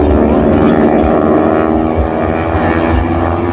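A trainer airplane flying at the Dayton airshow gives off a loud, steady propeller engine drone that holds throughout, with rough broadband rumble and no clear voices.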